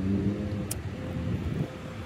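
Steady traffic roar at a bus stop, a continuous low road rumble from passing vehicles with a brief hissy burst early on, fairly loud and close throughout.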